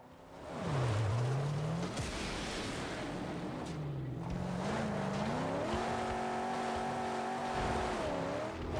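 A car engine in the post-apocalyptic game Mad Max revs and rises in pitch, with repeated swoops up and down, held high whines and rough roaring, loud and close throughout.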